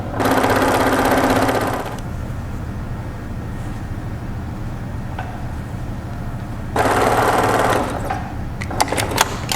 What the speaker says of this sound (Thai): ต่อไปเราก็เย็บตะเข็บด้านข้าง